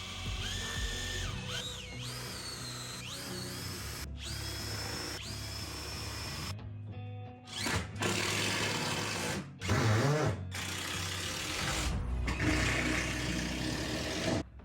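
A power drill drives screws into MDF panels during a laundry build, several sustained whirring bursts that rise and fall in pitch, separated by short pauses and a few louder grinding thumps, close and loud with no talking.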